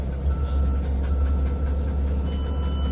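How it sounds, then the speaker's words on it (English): A thin, high alarm tone beeps almost continuously, broken by short gaps, over a loud low engine rumble, with no voices. "now we got all the alarms going off"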